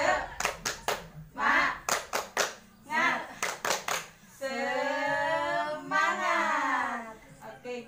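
A group performs a rhythmic spirit clap (tepuk semangat) in a stunting-prevention training session, with bursts of sharp hand claps in a patterned beat alternating with chanted voices, followed by sustained group chanting.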